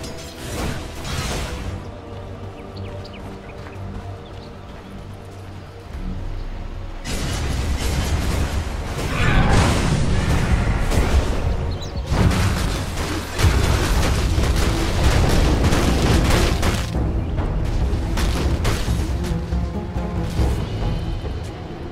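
A tower under attack in Dota 2: a quieter stretch of battle ambience, then a sustained loud barrage of booming impacts, clanks and bursts that lasts the rest of the stretch.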